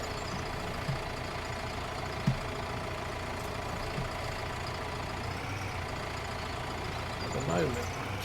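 Yard tractor engine idling in Farming Simulator 19: a steady, low mechanical drone that holds evenly throughout, with a few faint clicks and a voice-like murmur over the top.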